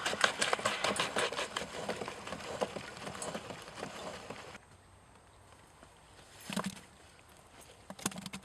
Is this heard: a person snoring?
no